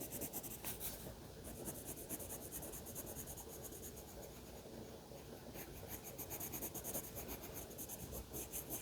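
Pencil colouring on paper, a continuous scratchy rubbing of rapid back-and-forth strokes that runs steadily for about nine seconds, close and fairly quiet with no voices.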